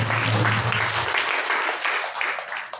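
A congregation at an all-night prayer meeting breaks into a brief burst of clapping, a dense patter of many hands that trails off after a couple of seconds.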